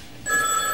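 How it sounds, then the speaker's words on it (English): An old-fashioned telephone bell starts ringing partway through, a bright steady electric ring with sustained tones, fairly close and clear with no voices. "I never let a phone ring 23 times."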